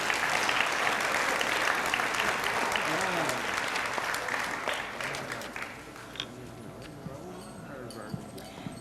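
Applause from the audience at an 8th grade school awards ceremony, thick clapping that thins out and fades into scattered claps and talking voices over the last few seconds.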